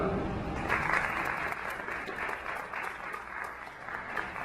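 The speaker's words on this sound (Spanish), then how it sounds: "Un fuerte aplauso a la CCJ." Audience applause at a science talk on virtual reality for physical rehabilitation, a dense, steady clapping that holds through the whole stretch at moderate loudness, with some voices faintly mixed in.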